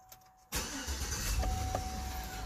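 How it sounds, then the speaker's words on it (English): A 2007 Chevy Tahoe engine cranks and catches after a brief quiet lead-in, then settles into a steady, close, continuous idle rumble with no talking. "Start and idle the engine."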